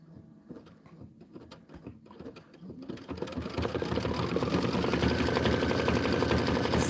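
Embroidery sewing machine stitching out an autumn border design, starting with sparse quiet clicks and taps, then building into a fast, steady rattling hum that grows louder and stays continuous to the end.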